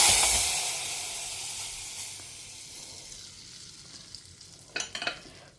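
Hot tempering poured into radish sambar cooked in a pressure cooker bursts into a loud sizzle that fades to a soft hiss, with a short crackle of spitting near the end; no one talks.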